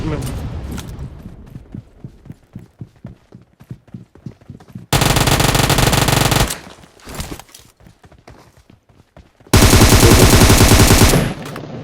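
PUBG Mobile gunfire: a run of loud single shots at first, then two long, dense bursts of automatic fire. The shooting is close and sharp, and there is no clear talk over it.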